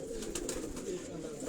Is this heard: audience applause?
no